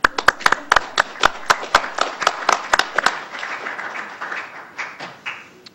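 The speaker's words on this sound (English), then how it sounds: "Yeah, it's okay to clap." Audience at a county board meeting claps in a short burst of individual, distinct handclaps for about three seconds, then fades into murmuring room noise with some voices.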